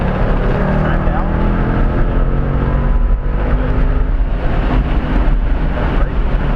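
A race car laps the Road America circuit, its engine droning loud and steady from close by, with a voice talking over it throughout.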